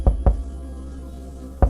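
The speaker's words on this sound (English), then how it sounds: "The knock came again, louder." Someone knocks on a door: two quick close raps, a pause of over a second, then a third rap, set against a low steady room hum.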